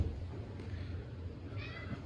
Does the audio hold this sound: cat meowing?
yes